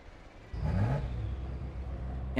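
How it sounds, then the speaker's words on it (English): A Ferrari engine swells into a steady rumbling drone partway through, holding at a moderate level until the end, with a faint voice at the very close. "And the sound of this Ferrari"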